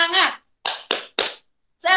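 A classroom of children does a rhythmic clapping chant, with short bursts of claps separated by brief pauses and children's voices chanting in time.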